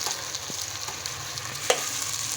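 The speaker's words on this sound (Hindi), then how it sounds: "इसको थोड़ा हम पकने देंगे, फ्राई करेंगे थोड़ा सा" Steady sizzling and crackling of chicken with garlic-ginger paste frying in a pan for chicken karahi, with faint stirring clinks and a brief louder pop partway through.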